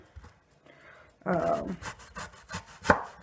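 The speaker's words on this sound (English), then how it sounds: "we're just going to do some thin slices straight off the half" A knife cuts thin slices from half a vegetable for a sauté mix served with a grilled pork steak dinner, producing a quiet run of close, scraping strokes and sharp taps on a cutting board after a near-silent start.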